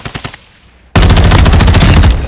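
Loud, continuous automatic gunfire from Call of Duty: Modern Warfare II erupts after a brief quiet gap, following a few earlier scattered shots, and rattles on steadily to the end.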